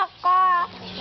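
A single short cluck from a chicken, close and fairly loud, with quiet background between.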